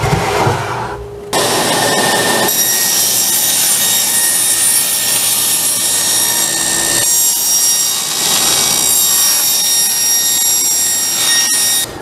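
Woodworking on movable wooden shelves for a shoe stand: continuous scraping and sawing-like rubbing of tools on wood, loud and close, with a brief quieter start and no speech.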